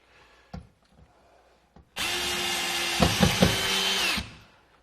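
A power drill drives screws during a mini-split installation, starting with a few light knocks and then a loud, close whirring run of about two seconds, stuttered by brief pulses as the screw seats, before it spins down.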